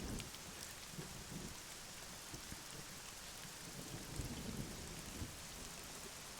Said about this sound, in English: just hanging out in the rain